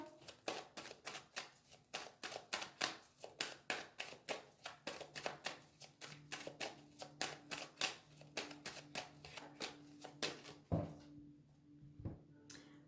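A deck of cards is cut and shuffled for a card reading, giving a long series of quick, crisp riffling flicks and slaps in steady rhythm, close and clear, with no talking.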